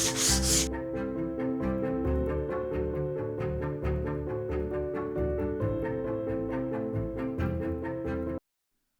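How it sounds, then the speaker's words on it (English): Rhythmic rubbing strokes of sandpaper working over a wooden chair toward a 240 grit satin finish repeat steadily at close range and then stop abruptly, with a tonal hum running underneath and no voices. "that's had its first sand"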